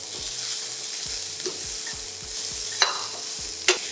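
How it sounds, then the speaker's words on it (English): Chopped onion and green chilies sautéing in a pan for palak paneer, a steady sizzle with occasional sharp spoon clinks against the pan, close, no speech. "I'm going to add the green chilies. I'm going to add the onion."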